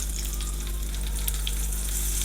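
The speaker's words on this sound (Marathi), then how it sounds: "हे बघा, मिरच्या अशा भाजतायत" Green chillies and curry leaves frying in hot oil in a pan give a steady, dense sizzle that holds evenly at close range throughout, with no voices.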